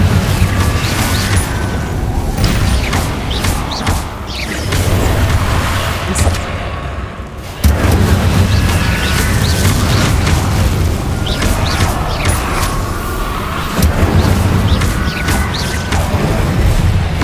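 Repeated fiery spell blasts from the Confringo curse in Hogwarts Legacy, a dense barrage of loud booms and crackling bursts running nearly continuously, with a brief dip before the explosions resume at full force.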